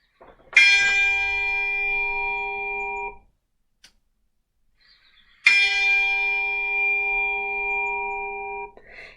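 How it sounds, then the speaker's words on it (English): A hand bell rings out twice for last orders at a beer festival, each clear, loud ring sustaining for about two and a half seconds before stopping, with a quiet gap between. "It's that time of the night for last orders."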